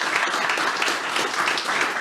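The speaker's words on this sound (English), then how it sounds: "a round of applause" A brief, steady burst of audience applause at a technical conference talk, dense clapping from a room full of listeners, heard alone at moderate distance.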